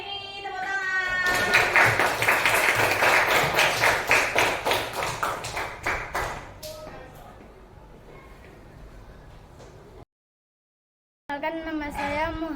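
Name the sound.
class clapping hands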